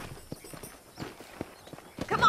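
Horse hooves clip-clop in the Red Dead Redemption video game, a close, uneven series of sharp hoof strikes on hard ground, with a voice speaking over the final moments.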